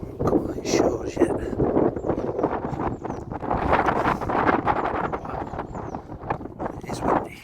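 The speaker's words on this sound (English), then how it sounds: "Wow. It is windy." Strong wind gusts across a churchyard in Prestwich, a loud, steady rush with buffeting on the microphone that carries through the whole stretch, and faint voices appear to be mixed in beneath it.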